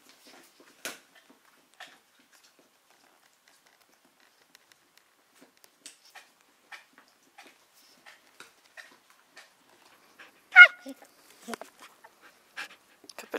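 A small dog pants softly with scattered faint whimpers and tiny patters, quiet and intermittent with near silence between, one louder burst toward the end.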